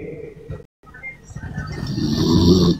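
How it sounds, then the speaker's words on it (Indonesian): A man snores loudly and close by, with a rough rasping breath that breaks off briefly and then swells into a longer, stronger growl. "Ngorok juga dia."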